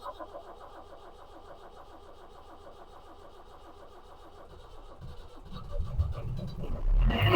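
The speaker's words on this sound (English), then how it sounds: "Diesel engines like this like to be started with full throttle" Land Rover Series 2A with a 2.25-litre diesel engine cranking steadily on the starter, then catching near the end and rising into a louder, rougher run at full throttle.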